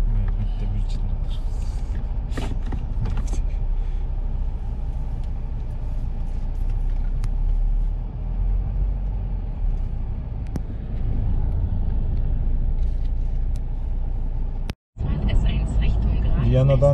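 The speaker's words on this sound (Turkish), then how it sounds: "Hala trafik var burada." Road traffic in a jam near Vienna, a steady low rumble of car and truck engines heard from inside a vehicle, with occasional brake hiss and a voice talking over it.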